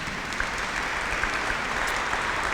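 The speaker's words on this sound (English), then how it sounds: "I want you to give yourself a round of applause in advance." Steady crowd applause from an audience at a city student internship luncheon, a dense continuous patter of many hands clapping at moderate level for the whole stretch, with no talk over it.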